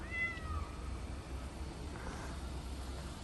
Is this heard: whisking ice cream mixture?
no